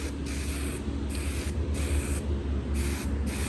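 Aerosol spray paint applied in a very light coat to Miata NB taillights: steady close hissing in short back-to-back bursts with brief gaps between passes, no talk.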